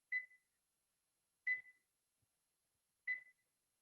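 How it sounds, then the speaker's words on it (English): Kitchen oven timer being set: three short, clear electronic beeps spaced about one and a half seconds apart, sounding alone in a quiet room. "Let me see if I can get the timer going on here."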